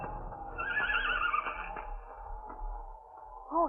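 A horse whinnies as a radio drama sound effect, a rising and falling neigh lasting over a second against a faint low rumble, followed by quieter stirrings and a brief closing snort.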